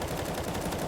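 Rapid gunfire from a Counter-Strike wall bang in a professional esports match sounds as a dense, continuous burst of loud shots filling the whole short moment.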